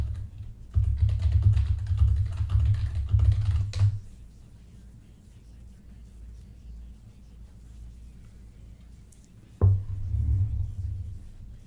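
A computer keyboard clatters in a dense burst of typing for a few seconds, falls quiet for a long gap, then starts again with a sharp tap and a shorter run of keystrokes near the end.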